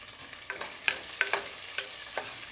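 Finely chopped small onions fry in a pan with garlic and ginger, a soft steady sizzle broken by several light clinks and scrapes of stirring, close and fairly quiet with no voices.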